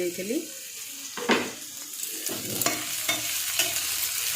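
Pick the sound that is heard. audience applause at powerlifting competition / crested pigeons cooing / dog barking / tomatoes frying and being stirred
tomatoes frying and being stirred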